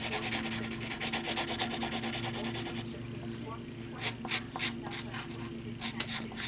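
Pencil shading on paper for a mask drawing, a close rhythmic scratchy rubbing of quick back-and-forth strokes, then softer, sparser scratches with faint taps.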